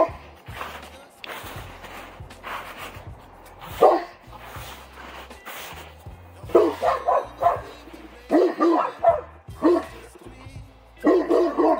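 A bullmastiff barks at a dog behind a fence in deep, loud bursts, at first uneven and then in rapid runs, with some scuffling movement between barks.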